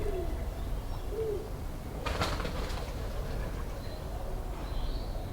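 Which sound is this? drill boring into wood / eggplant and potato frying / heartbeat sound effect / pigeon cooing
pigeon cooing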